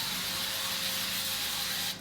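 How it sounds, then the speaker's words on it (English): Avocado oil nonstick cooking spray hisses steadily onto a sheet pan in one continuous, close burst lasting about two seconds before cutting off. "spray the pan heavily"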